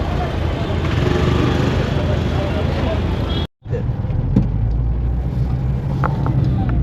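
Car driving heard from inside the cabin: a steady low engine and road rumble, briefly cut off by a moment of silence, then continuing with faint knocks and light voices.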